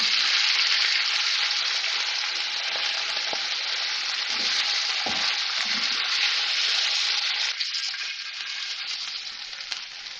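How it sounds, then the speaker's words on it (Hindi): Chicken pieces frying in oil in a kadhai for Bihari chicken handi, a loud, dense, continuous sizzle that holds steady throughout without any talking. "चिकन को फ्राई कर लिया है मैंने।"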